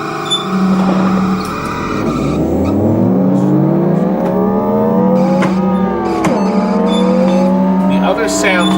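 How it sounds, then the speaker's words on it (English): A Bally Addams Family pinball machine's subwoofer plays loud, close car-engine revving sound effects with sweeping rising pitch and a tire-squeal-like ending, while a voice talks briefly over them. "Only the revving of the engine on the bottom, and of course the crashing."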